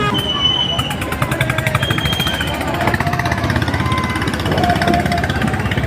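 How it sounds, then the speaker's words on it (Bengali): A river boat's engine approaching fast near a launch ghat, a loud, rapid mechanical putter with a steady pulsing rhythm, heard under nearby voices and crowd noise. "একটা নৌকা দ্রুত বেগে আসছে ব্যাগটাকে উদ্ধার করার জন্য"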